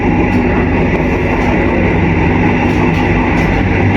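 Sawunggalih Utama passenger train running through Cikampek station without stopping, a steady loud rumble of wheels and carriages with a faint rhythmic clatter and no talk.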